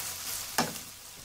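Potatoes and onion fry in a pan with a steady close sizzle and one brief sharp scrape of stirring midway.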